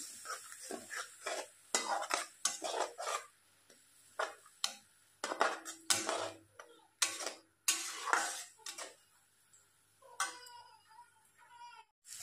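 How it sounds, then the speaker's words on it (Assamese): Cumin, coriander, jaluk paste and garlic are frying in a pan for an Assamese fish curry with taro leaves. Close, intermittent scraping strokes of a spatula sound over a faint sizzle. "ইয়াত মই যিহেতু জিৰা ধনিয়া গোটা জিৰা আৰু জালুকৰ ইয়াত পেষ্ট কৰি লৈছোঁ আৰু নহৰু দি দিছোঁ। এইখিনি মই ভাজি ল'ম"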